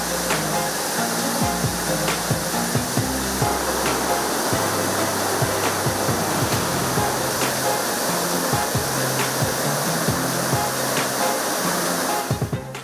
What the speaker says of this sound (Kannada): ರಸ್ತೆಯತ್ತ ಮುನ್ನುಗ್ಗುತ್ತಿರುವ ಜಲಧಾರೆ, ಪ್ರಕೃತಿ ಸೌಂದರ್ಯದ ಮಧ್ಯೆ ಹಾಲ್ನೊರೆಯಂತೆ ಉಕ್ಕುತ್ತಿರುವ ಫಾಲ್ಸ್